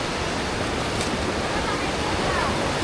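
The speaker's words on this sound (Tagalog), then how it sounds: "malakas lang yung agos." Strong current of the Bagsit River in Palauig, Zambales rushing steadily, a loud, continuous broadband roar of flowing water close by with no pauses.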